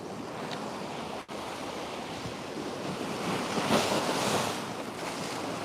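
Sea waves rolling in at Torquay with the tide in, a steady broad wash of surf with a swelling surge a few seconds in, close and fairly loud, mixed with wind buffeting the microphone and no voices.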